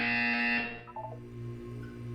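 A Portal 2 test-chamber buzzer blares loudly for about half a second, a harsh sustained electronic tone, then cuts off into a quieter low hum with a brief chime-like blip.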